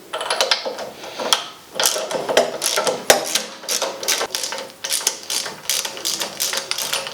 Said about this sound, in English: So let's grab the 10mm deep well and we'll get these pulled off.